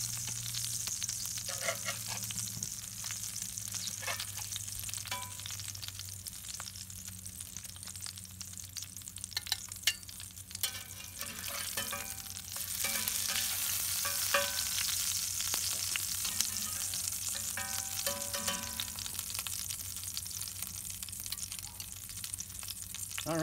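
Burger patties sizzle in a cast iron pan on a Kamado Joe ceramic grill, a steady close frying hiss with scattered pops and crackles running throughout, no talking.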